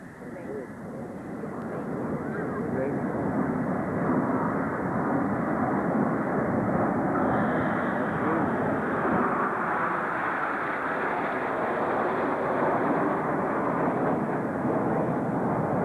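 Royal Air Force aerobatic display team jets trailing blue smoke fly past at a 1994 Halmstad airshow, their loud roar swelling over two seconds and then holding as a sustained, powerful rumble, with an announcer's voice faintly beneath.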